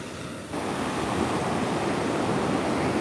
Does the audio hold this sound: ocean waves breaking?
yes